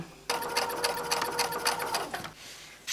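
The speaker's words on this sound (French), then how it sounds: "Et je les couds à 7 mm du bord." A sewing machine runs in a steady fast whir for about two seconds while stitching two quilt squares placed right sides together, then stops, close and fairly loud with no talk.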